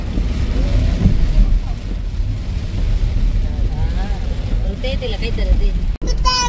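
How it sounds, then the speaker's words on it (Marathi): Heavy monsoon rain in the hills near Bhushi Dam in Lonavala, heard close up as a dense, steady roar that may be drumming on a vehicle. It continues for the whole stretch with a brief dropout near the end. "हे बघा किती जोरात पाऊस आहे"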